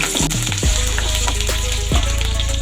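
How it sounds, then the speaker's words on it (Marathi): Finely chopped garlic, ginger and green chillies sauté in hot oil for a Khandeshi-style dal tadka, giving a loud, continuous close sizzle with a couple of brief clunks from the pan. "लसूण घालायचं आहे बारीक कापलेलं आणि अद्रक घालायचं बारीक कापलेलं आणि हिरव्या मिरच्या घालायच्या बारीक कापलेल्या चांगलं परतवून घ्यायचं"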